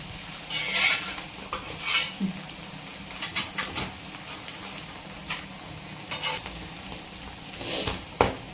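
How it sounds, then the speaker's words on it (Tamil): A large omelette fries in a home kitchen pan with a steady, continuous sizzle, broken by occasional scrapes and clinks of a utensil against the metal. "நல்ல இந்த ஆம்லேட் வந்து குக் ஆகட்டும்."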